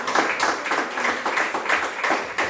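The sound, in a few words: audience clapping for Christ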